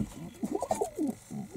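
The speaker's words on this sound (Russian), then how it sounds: "Дикие голуби." Wild pigeons cooing nearby, soft throaty coos in a short rhythmic run followed by a pause and another, fairly quiet and alone.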